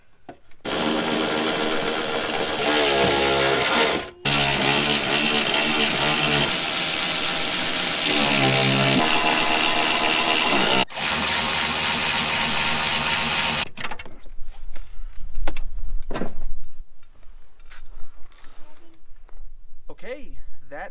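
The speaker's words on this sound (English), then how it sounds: "Now we just tighten down our hardware." Power tool drives Jeep TJ rear fender hardware tight, a loud close whirring in long bursts with brief stops, followed by quieter clicks and handling.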